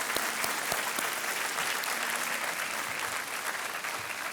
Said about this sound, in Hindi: तालियों के साथ हम इनका स्वागत करते हैं